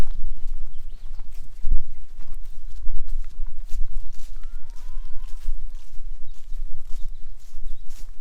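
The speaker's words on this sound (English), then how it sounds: "Beautiful lady is an old Tennessee walking horse." An old Tennessee walking horse shifts and steps at morning feeding, giving faint, irregular hoof clops and thumps on the ground against steady low outdoor rumble, with a brief soft whinny.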